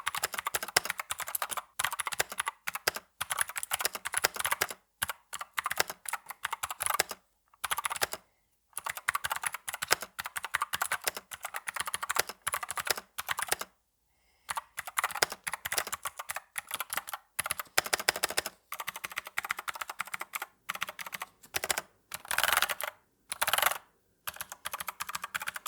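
Rapid typing on a Dust Silver D84 wireless mechanical keyboard with Gateron blue switches, dense bursts of sharp clicky keystrokes broken by brief pauses, close and alone with no talk.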